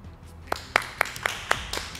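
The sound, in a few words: applause for contestant Alia on Chef Iraq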